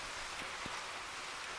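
Heavy, warm rain pouring steadily for hours at a carp fishing lake, a dense even hiss with a few heavier drops.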